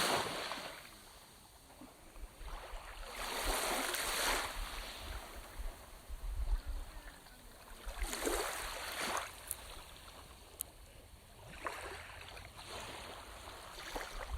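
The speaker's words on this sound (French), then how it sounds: "Vous entendez le clapotis des vagues qui vous entourent," Waves lap gently against a shore in slow swells, each soft rush rising and fading, with quiet water movement between them.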